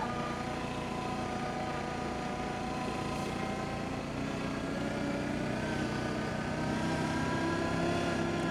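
An Arctic Cat Diesel 700 snowmobile runs at full throttle through heavy, wet snow, its engine giving a steady, droning roar that holds level throughout with no talking.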